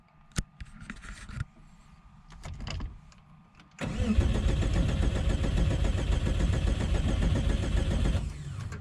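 A Subaru Impreza with a turbocharged EG33 engine, out of fuel, cranks over without catching: a loud, steady, rasping churn lasting about four seconds after a few quieter knocks and rustles.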